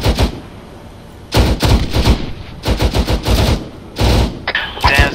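Rapid bursts of gunfire aimed at a BTR armored vehicle in a military video game, coming in several loud volleys with brief pauses between them.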